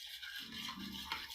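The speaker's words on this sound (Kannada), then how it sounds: "ಚೆನ್ನಾಗಿ ಬೀಟ್ ಮಾಡ್ಕೊತಾ ಇದ್ದೀನಿ ಫ್ರೆಂಡ್ಸ್." Curd thinned with a little water and salt is beaten briskly in a bowl, a quiet, rapid scratchy swishing, close and steady, lasting only a moment.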